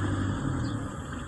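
Toyota Innova engine during a shift into second gear on a driving lesson in Rosario, Batangas, a steady mid-pitched rumble heard from inside the cabin, brief and fairly loud with no talking.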